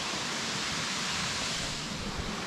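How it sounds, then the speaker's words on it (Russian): The Rusanov Klyuch waterfall roars as a steady, close, broadband rush of falling water that holds constant throughout, with no voices over it. "Походу это просто водопад."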